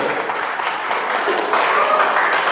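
Applause from an audience honouring a guest at a patriotic-song event keeps a dense, steady wash of clapping going the whole time, loud and close, with crowd noise mixed in.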